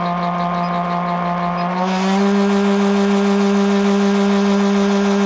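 A Bluewing line winder spools fishing line at around 400 RPM, a steady loud motor whine with strong harmonics that steps up in pitch and volume partway through as it speeds up, then holds a constant drone.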